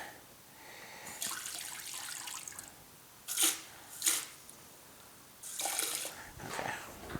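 Water poured and sprinkled over trays of radish microgreens, soft splashing and dripping with two short louder gushes in the middle and a longer pour near the end, close and fairly quiet, no talking.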